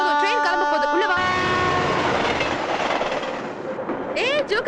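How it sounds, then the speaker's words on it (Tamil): A train standing ready to depart, with a loud, sustained rumble of the locomotive and carriages, a long horn-like tone, and a voice calling out near the start and again at the end. "ட்ரெயின் கிளம்ப போகுது, உள்ள வா."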